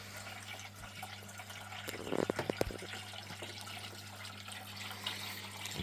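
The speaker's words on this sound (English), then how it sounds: "There's the smooth water head attached to the Flower Gold Wizard micro cleanup sluice." Water flows through a Flourgold Wizard micro cleanup sluice fed by a smooth water head during gold prospecting, a soft steady wash with a brief burst of louder splashing and sloshing partway through.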